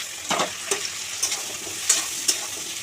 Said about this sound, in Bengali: কেটে রাখা বেগুন আলুগুলো দিয়ে দেবো।